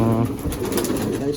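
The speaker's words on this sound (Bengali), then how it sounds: "খুব খুব মানে বড় পায়রা" Large Rampuri Kalajiriya pigeons from an old flying bloodline coo in low, steady murmurs close by, a continuous soft rumble running through the whole moment with a voice talking faintly underneath.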